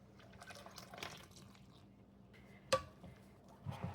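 Water trickles and splashes into a bowl holding flour for sourdough waffle batter, quiet and close, with a sharper clink partway through and more sloshing at the end.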